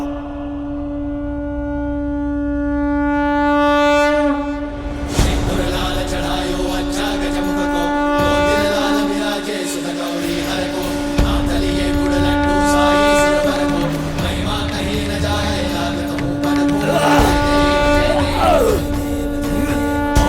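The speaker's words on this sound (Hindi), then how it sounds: "नारायण के शंख की ध्वनि है" Narayana's conch shell (shankh) blown in a mythological drama, a loud sustained horn-like drone holding steady for the whole stretch, with dramatic music swelling around it.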